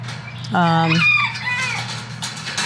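A rooster crows loudly and close, then chickens cluck and murmur softly in the background.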